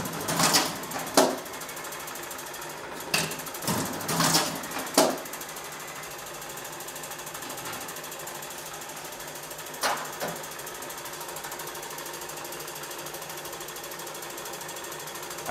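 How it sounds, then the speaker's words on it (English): Foldnak 40 bookletmaker and folder folding 400 GSM card to A4, with a few sharp mechanical clacks and thumps early on and one more later, set against a faint steady machine hum. "here we're folding 400 GSM card to A4. Simply put the sheets in."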